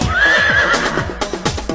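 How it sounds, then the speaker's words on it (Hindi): A horse lets out a loud, close neigh with a high whinnying tone, followed by snorts and a few hoof clops. "हिन हिन करता घोड़ा भागे,"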